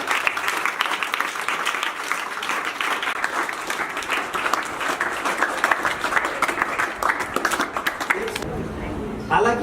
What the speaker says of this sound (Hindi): एक बार जोरदार तालियां उड़ा साहब।